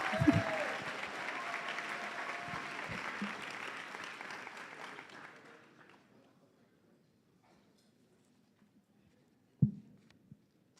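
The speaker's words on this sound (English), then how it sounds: "I think your seniors need to give you one more round of applause for all the days they took off." An audience at a high school senior recognition ceremony applauds in a dense, steady wash of clapping that fades out after about five seconds, leaving near silence broken by a single thump.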